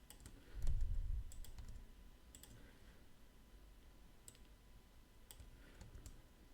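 Sparse computer mouse and keyboard clicks tap out while names are copied and pasted into a strain-plotting program, quiet and close, with a soft bump near the start.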